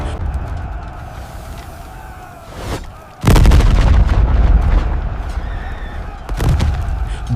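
Cannon artillery fire at a reenacted battle at Panipat in 1526: a loud, close boom bursts in at about three seconds and rumbles on with continuous heavy blasts, with a smaller thud just before it and another surge near the end.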